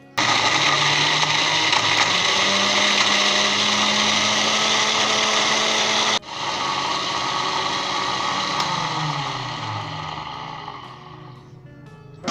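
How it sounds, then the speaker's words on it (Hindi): An electric grinder whirs loudly and steadily as it pulverizes whole spices into a fine chaat masala powder, with a brief cut partway through before the motor runs on again and slowly winds down at the end. "अब हमने इसे पीसना है, बहुत बारीक फाइन करना है हमने इसे।"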